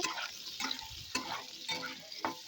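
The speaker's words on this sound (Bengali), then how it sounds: "ওই তেলের মধ্যে আলুগুলোও ভেজে নেব, হালকা করে একটু নেড়ে চেড়ে নেব।" Potatoes fry in leftover oil from okra in a pan, a soft continuous sizzle broken by several rhythmic scrapes of a spatula stirring them, close but fairly quiet, with no talking.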